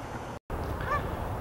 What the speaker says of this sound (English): you can hear the geese calling. They're on the pond now.